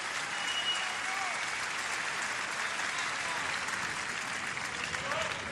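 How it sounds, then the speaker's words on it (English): A US Open 2016 first-round tennis crowd at Del Potro vs Schwartzman breaks into dense, sustained applause after a cross-court backhand volley, loud and even throughout, with a voice faintly beneath. "the crowd delight in that backhand volley cross court"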